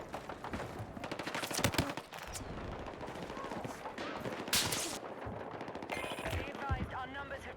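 Rapid bursts of automatic gunfire in Battlefield 6, sharp and repeated, with occasional louder shots over a busy, cluttered background.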